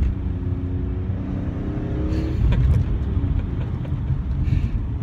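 A 2003 BMW E46 M3 with the SMG gearbox pulls away under power, the engine note rising steadily, then surging louder midway and holding a full, close roar with no voices.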